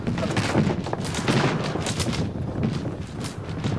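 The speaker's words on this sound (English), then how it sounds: "Airstrike." An airstrike lands in the video game Apex Legends as a dense, continuous barrage of loud booms and rapid blasts rolling on without pause for several seconds.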